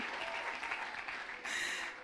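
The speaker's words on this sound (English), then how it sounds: "A round of applause for Tu Baba." An audience applauds a speaker at a youth entrepreneurship and empowerment event, a soft, fairly distant clapping that swells slightly near the end.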